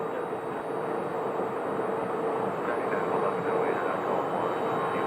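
British Airways airliner taxiing at Phoenix Sky Harbor, a steady broadband engine rumble with a high whine held at even loudness throughout, sounding moderately near and alone.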